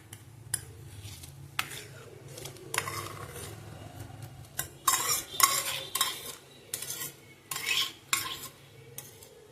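Washed bhagar millet tipped into a pot of boiling water and stirred with a metal spoon, giving repeated scraping clinks against the vessel, louder bursts of stirring midway, over a low steady boil.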